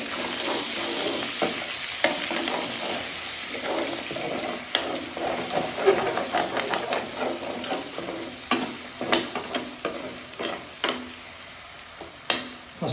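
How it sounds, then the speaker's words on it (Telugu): Onions and green chillies frying in hot oil, a loud close sizzle with brisk stirring scrapes and clatters that grow busier partway through, no voices. "ఇప్పుడు ఇదే ఆయిల్లో పచ్చిమిరపకాయలు ఉల్లిపాయలు వేసుకుందాం"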